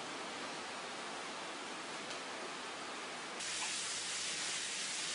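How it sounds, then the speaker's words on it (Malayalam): Sliced onions with a pinch of salt sauté in a hot pan, giving a steady close sizzling hiss that jumps noticeably louder partway through and then holds. "നമ്മൾ സവാള ഇട്ട് കഴിഞ്ഞാൽ അതൊരു ബ്രൗൺ കളർ ആവുന്നതിനേക്കും നമ്മൾ അതിനെ വഴറ്റിയിടാം"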